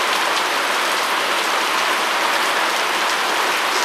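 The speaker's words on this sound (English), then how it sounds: "It's raining hard than a motherfucker on the wood." Steady heavy rain drums hard on a wooden shed roof in Detroit, a dense, loud and unbroken hiss with no voices.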